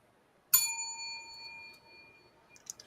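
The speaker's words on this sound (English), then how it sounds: "I was just testing my bell" A single bell strikes once with a sharp metallic ding, then rings on with a clear sustained tone that slowly fades, with faint small knocks near the end.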